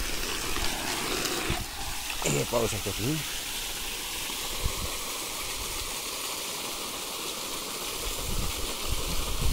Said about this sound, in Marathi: स्टार्ट झाली आहे मोटर